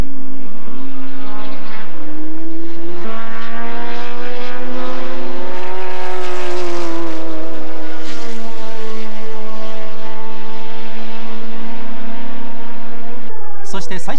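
Nissan Skyline GT-R Group A race cars at the 1990 round at Motorland crossing the finish line, a loud sustained engine roar rising and falling in pitch as the cars pass, heard over an excited commentator's voice.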